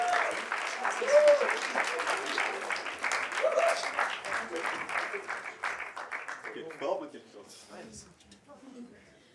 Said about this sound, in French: Kevin Robin, Steven Lemaître, Mathieu Cassino, que vous pouvez applaudir bien fort.